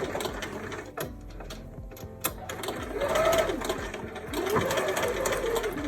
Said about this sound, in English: So I'm going to sew right up to that seam.